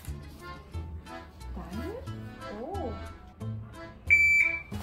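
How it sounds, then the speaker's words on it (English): Electronic shot timer at an Okayama shooting range gives a single sharp, loud steady beep near the end, following stretches of nearby talk. "Hey, this is timer."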